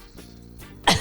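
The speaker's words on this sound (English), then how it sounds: "I'm coughing." A single sharp cough bursts out near the end, loud and close, after a stretch of quiet room tone with faint low hum.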